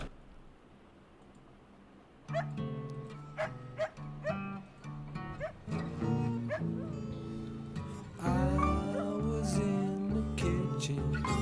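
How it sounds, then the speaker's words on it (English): A dog barks in short yips and whimpers against a steady musical backing, the barks repeating irregularly and growing busier toward the end. "That a dog?"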